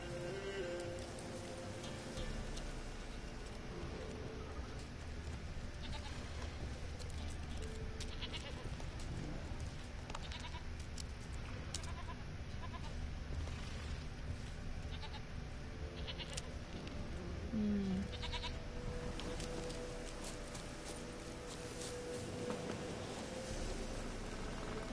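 Goat bleating in The Witcher III, a few faint bleats scattered through steady game ambience and background noise, with no talk over it.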